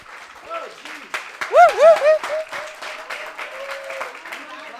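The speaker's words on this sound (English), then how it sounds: "Can we give them a round of applause?" Scattered claps from a small audience at a music community event, sparse and uneven, mixed with talking and laughter from people nearby.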